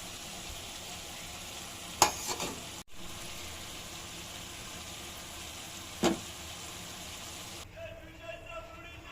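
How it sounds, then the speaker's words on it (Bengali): Vegetables frying in oil in a pan, a steady sizzle with a few louder stirring clatters and a sharp knock, and the sizzle drops near the end. "এখন আমরা এগুলো ভাজিয়ে নিচ্ছি"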